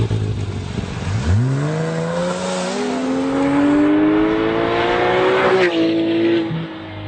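A 2014 Porsche 911 GT3 engine climbs steadily through the revs at high RPM while driving, a loud rising howl with a brief upshift near the end, no talk over it.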